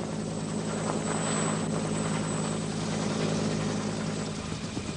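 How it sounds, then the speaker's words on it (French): A Bell UH-1 Iroquois Huey medevac helicopter drones on steadily, its continuous rotor and turbine roar holding at an even, fairly loud level with no voices. "Le bruit familier et l'apparition d'un Huey Dust-Off"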